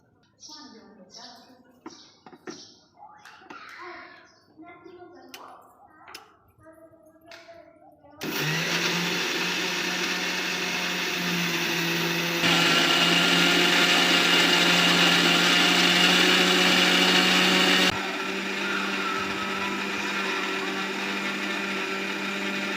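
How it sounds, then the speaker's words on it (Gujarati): After a few seconds of talking and clicks, a mixer grinder grinding sugar whirs loudly and steadily for about fifteen seconds, its pitch shifting slightly partway through. "હવે દળી નાખીએ આપણે મિક્સરમાં"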